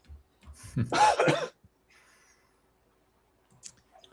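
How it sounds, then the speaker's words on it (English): A close, single burst of coughing around a second long, followed by near silence and a few faint small noises. "Who's got that characteristic cough that I have?"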